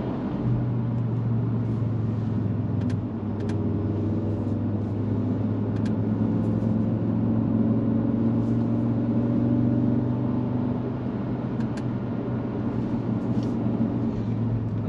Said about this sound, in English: Get a little burble out of the exhaust.